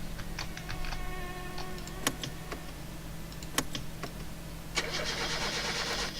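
In the video game My Summer Car, a car with a blown engine cranks repeatedly and fails to start: a rough, sputtering starter-motor churn that swells loudly near the end, following a few sharp clicks and clunks. No one speaks.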